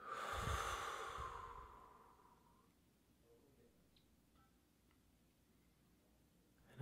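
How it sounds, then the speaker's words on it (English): A long, slow exhale through the mouth during guided meditation, breathy and close, fading over about two seconds into quiet room tone. "And exhale through the mouth."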